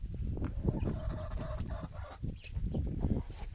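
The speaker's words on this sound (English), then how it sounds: "We got chicks in the little coop." Chicks in a small farm coop cluck and peep softly at close range in a short continuous stretch of fowl calls.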